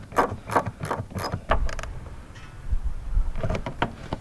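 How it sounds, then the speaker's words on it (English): A stubby pass-through socket wrench tightens hood pins on a 1993 Mustang, giving close, irregular bursts of metallic clicking and ratcheting with brief pauses between strokes. "I did find my stubby little pass-through socket, which I think will let me do it"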